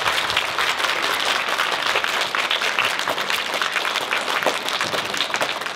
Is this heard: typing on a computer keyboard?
no